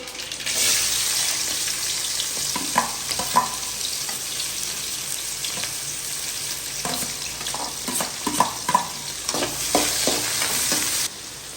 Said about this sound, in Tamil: எண்ணெய் காஞ்சிட்டு கடுகு போட்டுக்கிடுவோம். அப்படியே வெங்காயம்,